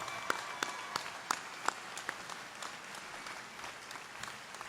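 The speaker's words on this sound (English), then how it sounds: "Can we get a round of applause for them" Applause from the audience at the La Porte High School Class of 2016 graduation ceremony, rising for faculty and staff, with scattered distinct claps standing out over a steady, fairly distant crowd wash.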